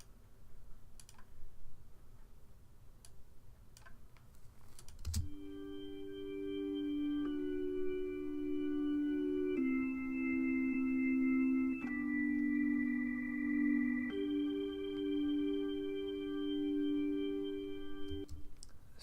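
Sustained Hammond B3 organ chords, dry and unprocessed, entering after a few soft key clicks and holding through several chord changes before stopping with a final click.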